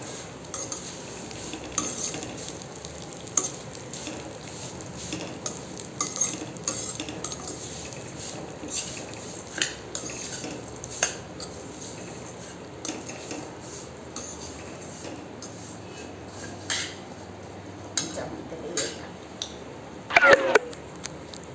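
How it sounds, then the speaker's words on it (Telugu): Vermicelli fries in ghee in a pan while a spoon stirs and scrapes it. The sizzle stays low and steady, with intermittent clinks and scrapes of utensil against the pan and a louder clatter near the end. "ఇది బాగా వేగాలి. సేమియా వేగితేనే మంచిగా ఉంటుంది టేస్ట్."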